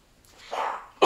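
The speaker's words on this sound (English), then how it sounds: "Excuse me, 1 second, I'm going to sneeze." A single close sneeze indoors: a rising breathy inhale builds for about half a second, then a sharp, loud burst ends it.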